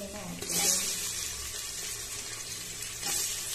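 Chopped tomato fries with onions in a hot pan for a Bengali mutton curry, giving a steady close sizzle with brief stirring swells.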